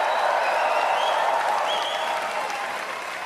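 A crowd applauds at a political rally in Woolwich, Ontario, with dense, sustained clapping and some cheering that holds steady and fades only slightly toward the end.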